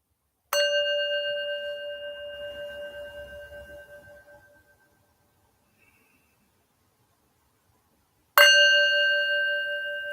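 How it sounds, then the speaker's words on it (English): A meditation bell is struck, ringing out clear and sustained with a bright metallic tone that slowly fades to silence, followed by a second strike near the end ringing on; only two strikes come through here. "We do 4 taps of the bell"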